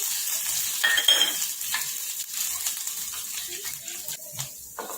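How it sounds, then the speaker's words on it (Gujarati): Mustard seeds, asafoetida and chillies crackle and sizzle in hot oil for a Gujarati tempering, a steady close spitting hiss with scattered pops and no talk over it. "તેલ ગરમ થઈ ગયું છે હવે રાઈ નાખીશું આપણે છે હિંગ નાખીશું થોડું મરચાંને કળી લીધે નાખીશું આપણે"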